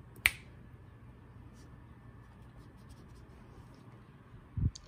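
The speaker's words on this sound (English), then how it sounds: "I was just snapping my fingers" In a quiet home sewing room, one crisp, close finger snap sounds near the start, followed by low rustling and a soft scraping thump near the end.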